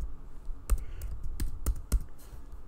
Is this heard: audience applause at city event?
no